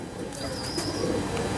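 A large pigeon kept by a pigeon fancier coos softly in a short, low murmur against steady background noise, faint and close, with a brief higher whistle-like tone above it.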